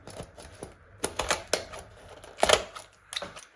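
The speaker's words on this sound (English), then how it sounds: "you just want to be cutting down that side of the backbone and that side of the backbone" Kitchen scissors snip down either side of a chicken's backbone during home processing, giving a series of sharp, close crunching cuts in irregular bursts.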